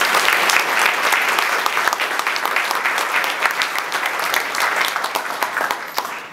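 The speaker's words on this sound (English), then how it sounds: "Let's give them a round of applause." Audience applause at a divisional breakfast recognition event, a dense, full round of clapping from a room of people, steady and close, tapering slightly toward the end.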